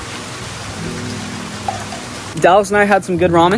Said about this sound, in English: the fact that it's raining outside